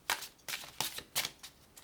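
Tarot-style cards shuffled for a reading, several quick riffling bursts in close succession, crisp and close, with no talking.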